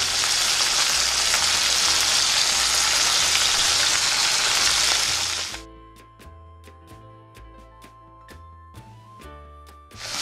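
Fish roe sprinkled with garam masala fries loudly in a pan with a dense, hissing sizzle, which abruptly drops away to quieter clinks and taps for the rest.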